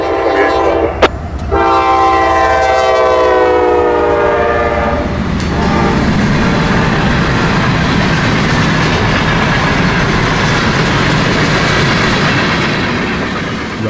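Freight train Q541, led by locomotive 3228, sounds a loud sustained horn at close range as it approaches a road crossing in Cordele, Georgia. The roaring rumble of the passing train fills the rest of the clip.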